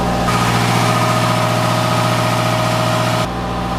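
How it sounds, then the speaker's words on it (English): A boat's diesel engine runs loud and steady with a rhythmic, throbbing idle, its pitch shifting slightly near the end. "I will never complain about noisy diesel."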